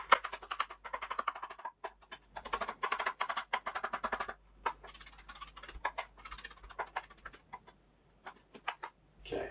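A knife dices a chili pepper on a cutting board in a steady run of quick, light chopping taps, close and fairly soft, with brief pauses between bursts.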